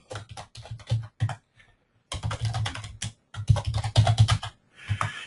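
Titles are typed on a computer keyboard in quick bursts of crisp key clicks, close and fairly quiet, separated by short pauses.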